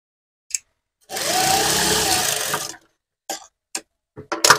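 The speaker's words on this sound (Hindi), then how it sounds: "और इसमें हम कच्ची सिलाई यहाँ पे लगा लेंगे" A sewing machine runs in one sustained burst of stitching along a sleeveless blouse seam, lasting about a second and a half, with a few short mechanical clicks and taps before and after.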